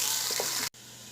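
Onions sizzling in hot oil during pulao preparation, a steady bright hiss with faint bubbling that cuts out abruptly near the end before resuming more quietly.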